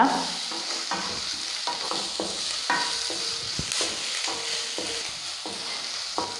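Onion and curry leaves frying in a pan while being cooked for chicken liver roast, a soft steady sizzle under repeated spatula scrapes and taps at an irregular rhythm, close by.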